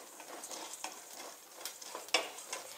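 Black pepper, cumin and ajwain dry-roasting in a pan on a low flame, quiet rustling and scraping as the seeds are stirred, with a faint crackle and a sharper clink near the end.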